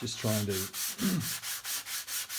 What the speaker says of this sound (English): What I'll be doing is just sanding with a 220 grit paper